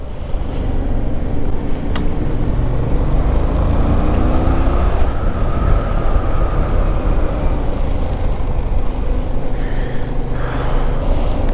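Yamaha Tracer 7 motorcycle riding roads in Gran Canaria, a steady broadband engine and wind roar that stays loud and continuous throughout with no pauses.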